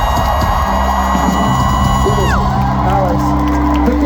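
A loud concert crowd at Red Rocks whoops, yells and cheers continuously after a song, a dense roar with scattered shouts and steady applause beneath.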